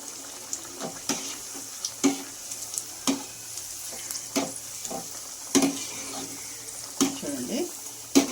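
Onions fry in a pan with a continuous close sizzle, broken by repeated sharp scraping or stirring knocks at roughly one-second intervals, with no talk over it.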